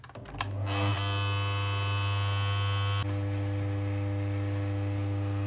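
A Singer 4411 sewing machine stitching through a denim jean hem, starting up into a loud, steady motor whir and buzz that runs continuously, close by, easing slightly partway through.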